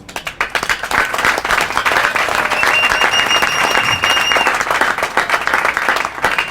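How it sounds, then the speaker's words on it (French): A crowd at a political gathering in Congo bursts into loud, sustained applause and cheering, dense clapping filling several seconds close and continuous. "mais de les acclamer très fort"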